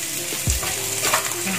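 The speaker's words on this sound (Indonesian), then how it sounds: "seperti ini kita aduk rata sampai harum ya" Shallots, garlic, scallions and chili stir-fry in a hot pan, a steady close sizzle with a couple of scraping stirs on top.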